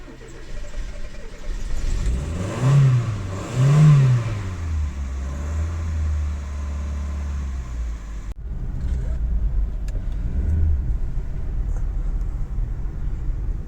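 Fuel-injected 2.0 engine of a Mazda 626 GC GLX coupe revs up twice in quick succession, then settles into a steady, close idle hum.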